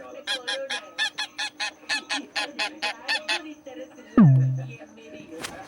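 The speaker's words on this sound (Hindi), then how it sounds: "ये है गोस।" A goose honks in a quick rhythmic series of about a dozen sharp, nasal calls, close and clear, followed by a lower sliding honk and a brief high squeak at the end.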